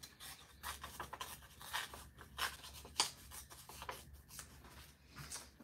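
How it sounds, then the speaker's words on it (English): Thin vellum paper being torn across a sheet by hand, a soft rasping rip with short scratchy bursts, close and quiet, with no talking. "I'm going to rip across here."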